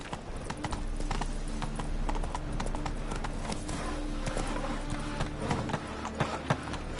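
Hooves of the horse Roach in The Witcher 3: Wild Hunt clop in a steady trotting rhythm over ground, close and fairly quiet, mixed with soft ambient game sound throughout.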